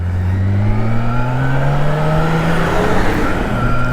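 A BMW K1600 B bagger motorcycle with a 160-horsepower engine accelerates hard, its loud, close engine tone rising smoothly through the revs, with a continuous roar of wind underneath.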